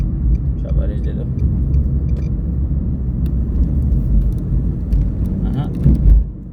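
A car engine revs up steadily during a driving lesson on the road, a continuous low rumble of acceleration with an instructor talking over it throughout.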